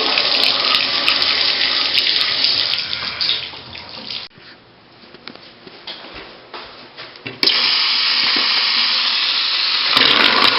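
A bathroom faucet runs in a loud, continuous rush of water, easing off and dropping lower partway through before surging back to full flow, with no talking.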